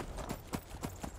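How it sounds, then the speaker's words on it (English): Horse galloping in Skyrim VR, a steady quick clip-clop of hooves on the ground, fairly close and moderately quiet, with no talk over it. "Go, horsey, go!"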